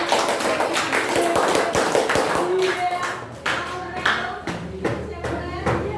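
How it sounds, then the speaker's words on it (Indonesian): Students in a classroom clap together during a lesson on pyramid volume, sharp hand claps that start ragged and dense, then thin out into scattered, slower claps while faint voices murmur underneath. "Beri tepuk tangan."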